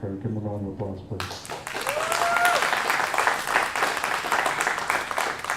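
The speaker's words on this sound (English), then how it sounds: "Give him a round of applause, please." A band concert crowd breaks into broad, sustained applause for the drummer, starting after a brief stretch of music and holding steady to the end, with a few cheers and voices mixed in.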